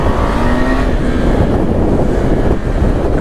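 A 2020 KTM 390 Adventure motorcycle is ridden along, its engine droning steadily under loud, constant wind buffeting on the microphone, with no speech.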